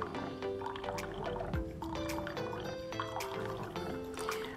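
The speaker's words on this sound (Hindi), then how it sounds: "ये देखिए इसमें से खाली पानी, गर्म पानी निकलता है।" Hot water pours from a Keurig coffee maker into a cup, a steady liquid trickle and gurgle running close by for several seconds with some clatter mixed in.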